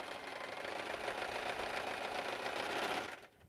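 A sewing machine runs steadily while quilting a quilt, a fast even stitching whir held at constant speed for about three seconds before slowing and stopping near the end; close and fairly quiet, with no talk.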